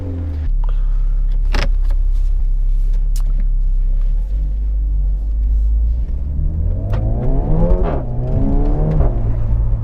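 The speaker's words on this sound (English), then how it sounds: "Oh, I love the sound of this car." Renault Megane RS exhaust in sport mode, a loud, deep continuous engine rumble with sharp pops and crackles scattered through, then rising revs sweeping upward near the end; no talking.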